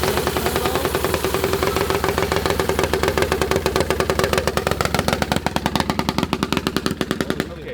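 Three small 15+ horsepower engines feeding a 3-into-1 exhaust header run roughly, a loud close uneven rattling drone that breaks into sharp staccato popping pulses toward the end, with no talking.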